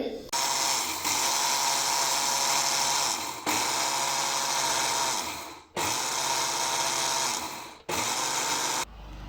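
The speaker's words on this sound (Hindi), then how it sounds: "ग्राइंडर बॉक्स के अंदर ऐड करेंगे हम अलसी को। ग्राइंड कर लेंगे।" An electric grinder whirs loudly as it grinds flax seeds, running in several long continuous bursts with brief pauses between them, no voices over it.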